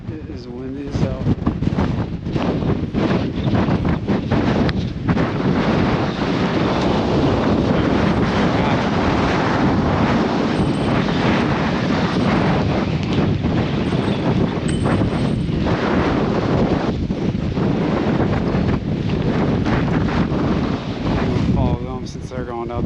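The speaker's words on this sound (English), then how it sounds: "It is windy as hell." Strong gusty wind roars across the microphone on a hiking trail on the active volcano Nasudake in Tochigi, Japan, in bad weather, loud and constant throughout, with voices faintly under it.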